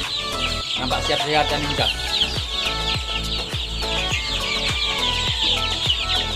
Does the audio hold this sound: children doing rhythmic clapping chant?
no